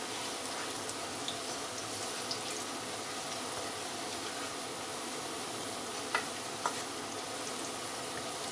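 Onions browning in a pan for bhuna mutton (bhuna gosht) sizzle steadily and close up, with a few faint scrapes and clicks of stirring and no talking.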